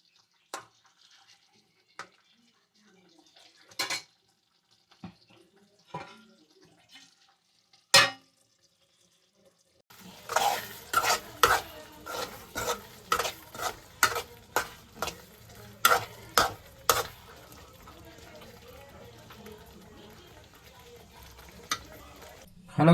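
Prawns roast in a pan, village-style. A quiet opening with a few scattered taps gives way after about ten seconds to a steady sizzle, punctuated by a rapid series of stirring clacks against the pan.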